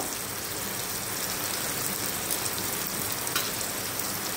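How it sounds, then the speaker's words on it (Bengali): Onions sizzling in a frying pan for a meat dish, a steady close hiss and crackle of oil running throughout without pause. "পেঁয়াজটাও সুন্দর করে ফুটিয়ে নেব"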